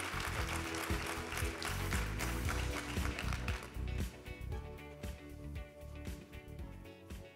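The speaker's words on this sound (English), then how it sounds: "Let's give them a wonderful round of applause." Applause from the audience at a women's leadership event greets panelists as they come on stage; dense, loud clapping fills the whole stretch, with steady tonal sounds running beneath it.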